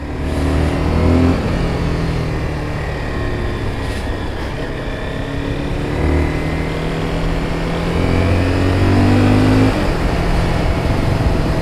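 A Commando 300 motorcycle engine drones steadily on a downhill ride, with the pitch rising and falling through repeated revving surges, loud and close, with no talking.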